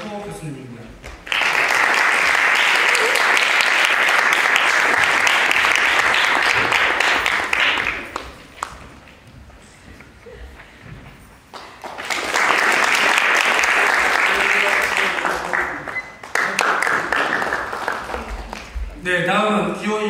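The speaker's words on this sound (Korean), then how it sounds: "큰 박수로 하겠습니다." An audience at a university presidential candidate debate applauds in two loud, sustained waves of dense clapping, separated by a quieter stretch where a speaker talks.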